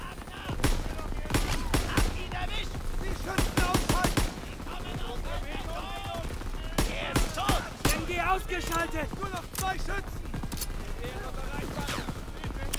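Call of Duty WWII gunfire during an assault on Hill 493: rapid bursts of shots and sharp single cracks in a dense, busy mix that runs the whole time, with game sounds and a voice talking over it.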